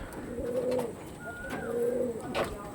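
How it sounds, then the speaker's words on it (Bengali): Nildoma pigeons, a blue variety, give two clear, close coos in a repeating rolling pattern, with light bird chirps and rustling around them and no talk. "পুরো একদম নীলদমা পায়রা আছে"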